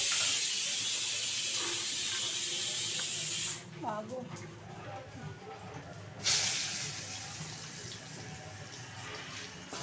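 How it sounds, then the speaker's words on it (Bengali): Cumin seeds and bay leaf hit hot oil for tempering, giving a bright hiss that cuts out briefly midway and then returns at similar strength. "এই যে এখানে সাদা জিরে আর তেজপাতা, এটা তেলের মধ্যে ফোড়ন দেব।"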